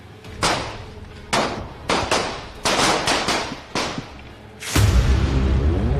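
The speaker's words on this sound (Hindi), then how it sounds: "जैसे ही दोनों को मीडिया के सामने लाया गया, वैसे ही ताबड़तोड़ फायरिंग शुरू हो गई" Rapid bursts of gunfire ring out at close range during a police escort of two detainees before the media, sharp loud cracks in irregular clusters followed by a sustained rumbling roar.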